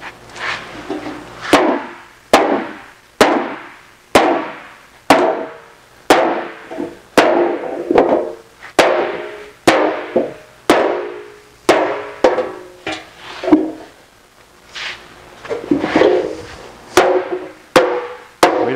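A hammer strikes sheet metal to shrink it, around twenty loud, sharp metallic blows landing in a steady, deliberate rhythm with brief ringing after each hit and no talking.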